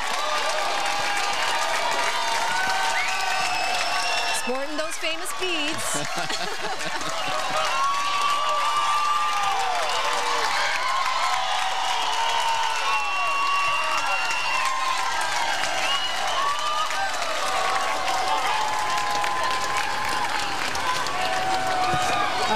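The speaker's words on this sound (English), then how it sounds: "They are getting the crowd wild." Crowd cheering and clapping at a sunset beach parade of champions in Hawaii, a dense steady roar of whoops and applause filling the scene, with a commentator talking over it.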